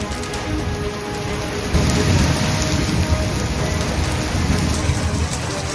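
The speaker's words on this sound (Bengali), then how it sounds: "কলকাতা, হাওড়ায় বিভিন্ন জায়গায় বৃষ্টির সঙ্গে তুমুল ঝোড়ো হাওয়ার দাপট।" Heavy rain pours steadily in Kolkata and Howrah, driven by strong stormy wind, with a dense, loud roar that swells slightly midway. Thunder may rumble low beneath it, and no one speaks.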